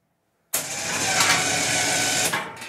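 An electric winch on a 2005 Arctic Cat 400 four-wheeler lowers a universal snow plow: after a brief silence a loud motor whir starts abruptly and holds steady, close by, to the end.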